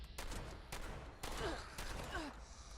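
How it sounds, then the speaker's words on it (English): Combat shotguns firing in the video game Fallout 76, several heavy blasts spaced about half a second apart over a steady background hum, with fainter tonal in-game sounds trailing after them. "These combat shotguns are delightful."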